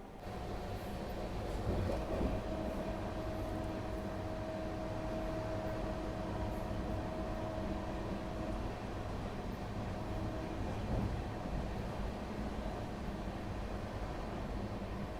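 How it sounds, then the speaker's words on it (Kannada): Tamil Nadu Express train crossing past a moving Bengaluru Rajdhani, heard from inside a first-class AC coach as a steady loud rumble and rush with a sustained tonal whine, swelling briefly around the passing moment. "Tamil Nadu express crossing."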